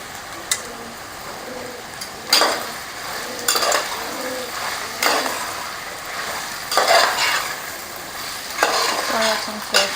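Soya chunks stirred into vegetable pulao in a pan, several distinct scraping stirs every second or two over a low steady sizzle, close and fairly loud, with no voices.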